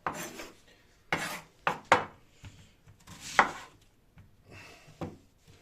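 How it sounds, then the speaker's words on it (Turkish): A knife slicing meat into thin long strips for homemade tantuni, a handful of separate close scraping cuts against a board with quiet pauses between strokes and no talk. "Şimdi bunu ince uzun bir şekilde arkadaşlar şöyle keseceğiz"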